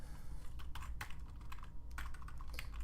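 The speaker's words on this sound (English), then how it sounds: "I hate this keyboard." Rapid, steady clicking of keys as someone types on a computer keyboard at a desk, close and fairly quiet, with no talking.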